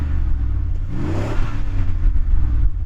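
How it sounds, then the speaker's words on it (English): A Bentley Continental's engine revs close by, rising to a brief throaty peak and settling back over about three seconds, with a deep rumble throughout and no talk. "Go on, Yanni, rev up yours."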